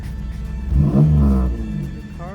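A 4th-gen Pontiac Firebird with leaking gaskets and bad coolant seals revs once, its engine rising into a mid-pitched roar and easing back down over a steady idle, loud and close with no talk.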